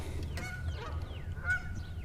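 Two geese honking at close range beside water, a few rough nasal calls over a low rumbling background, with no speech.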